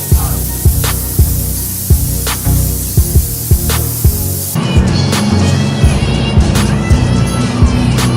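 Air-fed blowgun spraying primer undercoat onto kitchen units during a refurbishment, a steady broadband hiss running throughout with repeated sharp clicks and knocks over it, close and loud, no voices.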